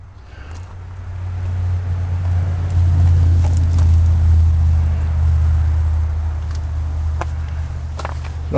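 A 1993 Ford F150 XL pickup's engine idles steadily after start-up, a constant low rumble that swells slightly and holds, with a few faint clicks and outdoor sounds over it.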